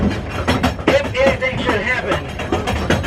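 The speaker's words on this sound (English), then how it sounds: "that banging, clangy sound you hear is our braking system" Rhythmic metallic banging and clanking from the braking system of a moving cable train in Marvel Cave, steady and close, while a person talks over the mechanical noise.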